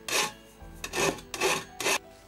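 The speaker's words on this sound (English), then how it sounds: "Just giving it a quick filing down, removing the burr from the inside." Inside of a metal can hobo stove being filed to remove the burr: four close, loud rasping strokes in an uneven rhythm, each a harsh scrape of file on metal with short pauses between.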